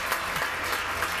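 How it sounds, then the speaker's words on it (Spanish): Studio audience on a Spanish television talk show applauding a guest, a brief steady burst of many hands clapping. "Bueno, un aplauso para César González."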